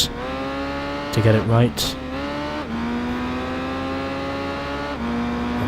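Honda motorcycle engine revving in Tourist Trophy challenge mode, a close, loud buzzing whine that dips and climbs as the throttle is eased and reapplied, with someone talking over it.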